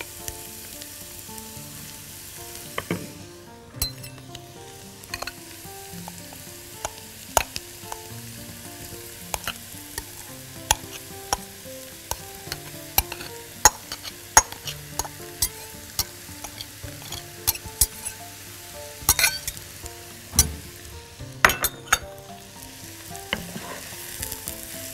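Mushrooms frying in a hot pan for a chicken toast roll filling, a steady close sizzle broken by sharp scrapes and clinks of a utensil stirring them, with no talking.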